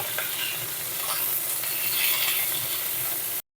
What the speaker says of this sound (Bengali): এই তেলেই দিয়ে দেব কেটে নেওয়া ফুলকপি এরপর ফুলকপিগুলো হালকা লাল করে ভেজে নেব